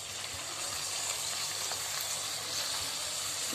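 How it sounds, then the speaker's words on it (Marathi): Chopped onion fries in a pan already seasoned with mustard seeds and cumin, giving a steady, close, even sizzle that holds throughout with no talking over it. "आपल्याला कांदा छान गुलाबी होतोर परतून घ्यायचा आहे"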